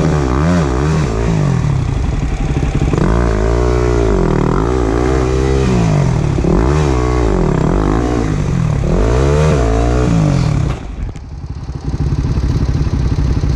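An off-road motorcycle engine revs hard and loud on a dirt trail, close by. It rises and falls in repeated surges with clattering, then dips briefly near the end before roaring again.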